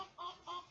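A pet bird in a room gives two short, shrill squawks about a quarter second apart, faint and close with little else around them.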